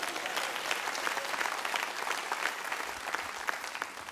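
A church congregation applauds in a steady, dense wash of clapping that holds for several seconds without letting up, with no voices standing out.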